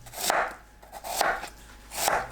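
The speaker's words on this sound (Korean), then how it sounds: "배는 껍질과 씨 제거하고 갈기 좋게 썰어줍니다." Three slow, evenly spaced knife cuts through a peeled, cored pear, each a short crisp slicing swish, close up.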